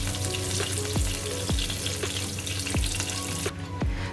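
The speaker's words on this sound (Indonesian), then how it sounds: "Tumislah bawang putih cincang hingga kecoklatan." Chopped garlic sizzles steadily in hot oil in a pan, a dense continuous frying crackle with occasional stirring clinks, close and fairly loud with no talk.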